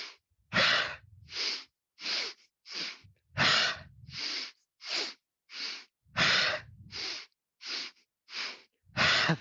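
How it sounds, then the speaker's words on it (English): Rhythmic yoga breathing, in through the nose and out through the mouth, heard as about fourteen strong, close breaths in an even, steady pattern with silent gaps between them. "we're breathing through the nose on inhale, through the mouth on exhale"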